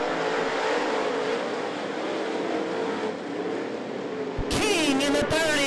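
Steel head late model race cars roar around I-75 Raceway in a sustained, loud engine drone, followed near the end by a sudden sharp burst of cars sweeping close past.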